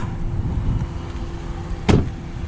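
Door noise from a 2017 Ram 1500 half-ton pickup, towing a 25-foot travel trailer and parked on a highway ramp shoulder: a single sharp thump near the end, over steady road and engine rumble, with no talk.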